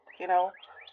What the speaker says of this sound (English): If you can hear this bird outside in nature